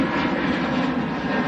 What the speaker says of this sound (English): EasyJet to Hurghada in Egypt.